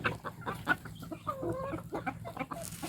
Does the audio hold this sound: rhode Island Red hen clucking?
yes